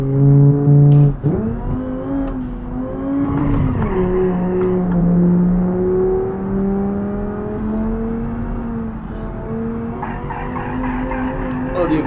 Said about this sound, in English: The on-demand all-wheel drive kicked in.